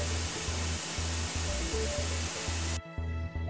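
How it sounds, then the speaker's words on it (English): An EXAIR Super Air Knife blasts compressed air in a loud, steady broadband rush that cuts off abruptly near the end, leaving only faint low rumble. "The Super Air Knife also dramatically reduces noise levels for improved working"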